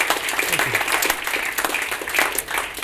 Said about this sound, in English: please, another big round of applause for Terry